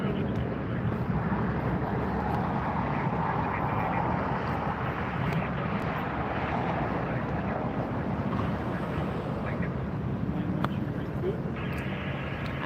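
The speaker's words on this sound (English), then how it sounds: "British Airways, arrival on the other side." A British Airways airliner arriving at LAX, heard as a steady, broad, distant jet roar with wind buffeting the microphone throughout.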